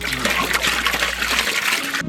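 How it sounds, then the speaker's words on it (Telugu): Water pours in a steady gush and splashes into a large pot for cooking biryani rice, then cuts off abruptly. "ఒక గంట తర్వాత రైస్ కోసం పెద్ద దబరా పెట్టుకొని నీళ్ళు పోసుకుందాం"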